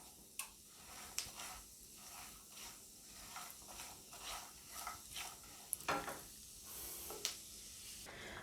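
Almonds roasting in ghee crackle with a faint, steady sizzle, broken by soft ticks and a few light stirring clicks. The sound is quiet and close, with no voices.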